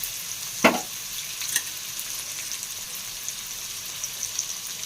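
Chicken and chopped onions frying in a pan with spice tempering, a soft steady sizzle broken by a sharp clatter near the start and a lighter knock a moment later.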